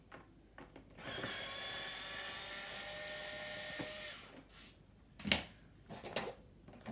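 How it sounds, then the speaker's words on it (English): A power driver with a T20 star bit backs screws out of the front frame of a Stokke Trailz stroller basket, whirring steadily for about three seconds at close range before stopping, followed by faint handling clicks. "Just unscrew them."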